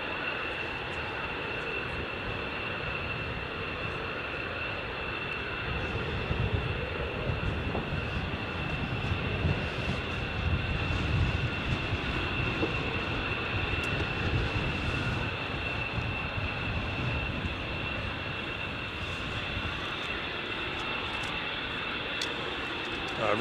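A C-130 military transport plane doing touch-and-go landings at Nellis Air Force Base, a steady broadband propeller-engine roar that holds for the whole stretch at moderate distance, swelling slightly midway.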